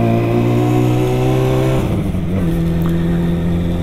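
Suzuki Bandit GSF600 motorcycle engine running loud and close, a steady droning rev that drops to a lower idle partway through and holds there.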